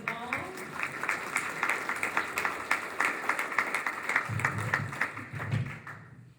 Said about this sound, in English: I've been dying to clap for them all